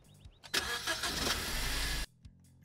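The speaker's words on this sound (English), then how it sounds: "Oh, it sounds so bad, this car" A car engine in Autobahn Police Simulator 2 on PS4 Pro cranks and runs with a rough, steady mid-pitched drone for about one and a half seconds, then cuts off abruptly, leaving a few quiet in-game ticks.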